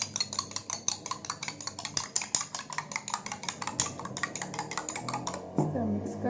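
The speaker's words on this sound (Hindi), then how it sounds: "इस अंडे को आप अच्छी तरह मिक्स कर लें।" Egg being whisked in a bowl, a fast run of light clinking and scraping strokes that repeats steadily at close range before a brief change in tone near the end.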